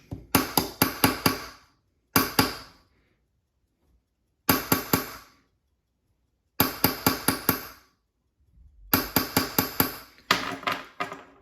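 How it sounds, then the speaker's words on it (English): A flat punch is tapped against a rivet on a vintage watch balance staff, flattening it. Close, sharp metallic taps come in quick bursts of four to six, separated by short pauses, with no talking. "So now use our flat punch."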